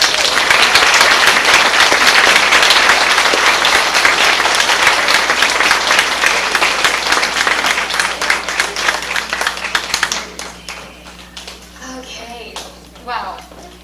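A sustained burst of loud audience applause at a Catholic talk welcoming Chéri Ballinger, dense clapping that tapers off after about ten seconds, leaving scattered claps and murmurs.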